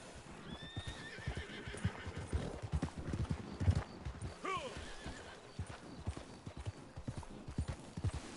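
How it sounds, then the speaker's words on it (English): Hooves clip-clop steadily while a horse in the video game Red Dead Online whinnies twice, a rising cry early and a longer neigh midway, with faint voices underneath. "That must be a player horse."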